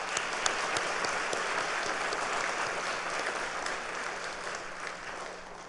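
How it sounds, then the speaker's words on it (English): An audience at a high school graduation ceremony claps in sustained, even applause, a dense wash of hands heard from a distance and holding steady for several seconds. "So let's give them a round of applause one more time."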